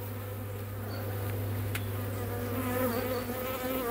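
Honey bees buzzing steadily from an opened hive after smoking, a close, continuous drone at the start of spring, with no voices.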